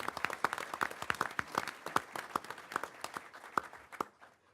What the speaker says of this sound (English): Let's have a round of applause for the board